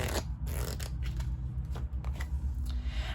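A deck of tarot cards being shuffled close up, a run of papery riffling and flicking bursts over a low background rumble, with no talking.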